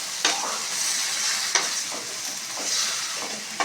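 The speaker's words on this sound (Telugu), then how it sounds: "బాగా కలుపుకోవాలి." Vegetables and tomatoes sizzle in a frying pan while a spoon stirs them, giving a steady fry hiss with several sharp scraping strokes spread through the stretch, close and clear, with no talking.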